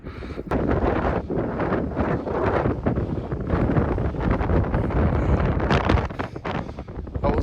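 Strong wind on a Lake District mountain, loud continuous gusting roar buffeting the microphone with surging waves of rushing noise throughout.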